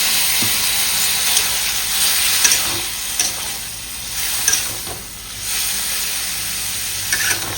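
Onion paste and nigella seeds sizzling and frying in a pan, a loud steady hissing crackle with a few brief stirring scrapes throughout and no talk.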